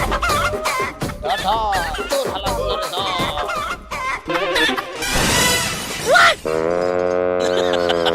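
A chicken clucks and squawks loudly and close, with agitated cackling among excited shouting voices during a staged chicken-theft comedy scene.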